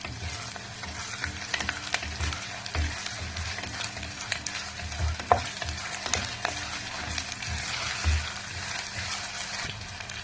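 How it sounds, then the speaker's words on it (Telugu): Ginger garlic paste frying in a pan for a brinjal cashew curry, a steady crackling sizzle with frequent stirring clatter and scraping, close up and without talk, over a low hum. "దీన్ని బాగా కొంచెం వేపుదామండి. అల్లం వెల్లుల్లి పచ్చి వాసన పోయేదాకా వేపుకుందాం."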